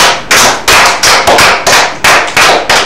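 Loud rhythmic applause for the Togolese football federation, a crowd clapping in strong unison bursts, roughly three beats per second, each sharp onset decaying before the next.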